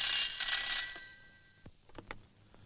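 Telephone ringing in a Tamil film scene, a bright electronic ring that sounds loud for about a second and then fades, followed by a few faint soft knocks.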